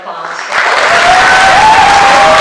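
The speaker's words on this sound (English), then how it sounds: "A huge round of applause" A large crowd applauds a graduating class at a campus graduation ceremony, the clapping swelling in after a half-second and staying loud and dense, with a faint whistle or cheer riding over it.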